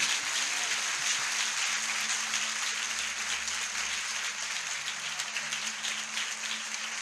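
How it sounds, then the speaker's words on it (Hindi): Applause from a church congregation during a sermon, a dense, steady wash of clapping sustained for several seconds without a clear break, heard with some distance and room hum underneath. "क्या हम यीशु के लिए एक ताली बजा सकते हैं?"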